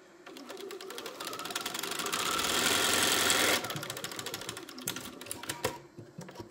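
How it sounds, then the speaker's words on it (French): A Bernina sewing machine runs with a rapid mechanical stitching clatter that builds into a loud, steady whir, then breaks into shorter bursts with ticks and clicks, with no talking. "cette Bernina elle gueule quand même un peu"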